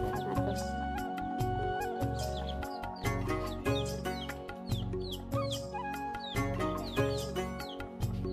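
Chickens and small chicks cluck and peep in a village setting, with brief high chirps recurring throughout, partly buried under steady, loud rhythmic music.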